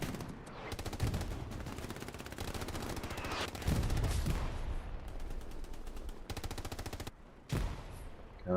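MG42 machine gun firing in Hell Let Loose, a competitive match on the Stalingrad night map: long, rapid bursts of automatic fire with short gaps between them, loud and close, with other gunfire blending in behind.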